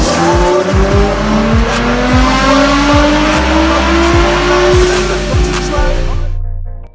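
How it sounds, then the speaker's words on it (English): A Ford Mustang Shelby GT350 V8 with a stainless header-back exhaust and cam tune revs hard and climbs through the gears, loud and close, with brief tire chirps before cutting off abruptly. "This is a high revving V8 from Ford."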